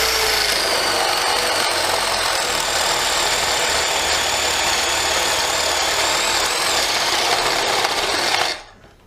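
A Bosch GSB 18V cordless drill in second speed, drill mode, whines steadily and loudly at close range, boring a cheap 32mm bit continuously through material for several seconds before cutting off abruptly.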